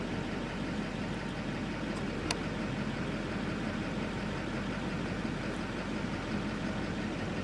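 A car engine idling while driving on a road in Manitoba: a steady, even low rumble with constant broadband road and cabin noise, unchanging throughout.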